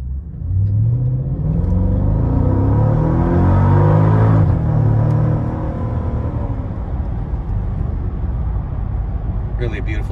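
A 2004 Mercedes SL55 engine revs up loudly through first gear, drops briefly at the shift, then climbs again in second before fading into steady road rumble.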